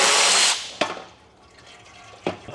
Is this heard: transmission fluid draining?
yes